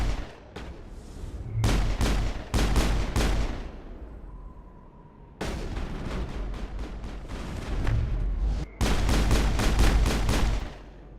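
Gunfire in the Mass Effect video game, loud bursts of rapid shots in several volleys separated by brief pauses, close and punchy with no talking.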